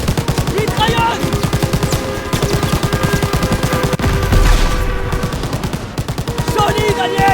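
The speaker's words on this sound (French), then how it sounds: "Mitrailleuse!" Dense machine gun bursts and scattered gunfire in a World War II shooter set around a German train, loud and continuous, with rapid repeating shots throughout and a heavier boom near the middle.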